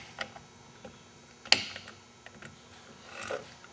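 An abrasive pad head being fitted and seated onto a machine shaft gives small scattered clicks and light mechanical taps, with one sharper metallic knock in the middle and a soft rustle near the end.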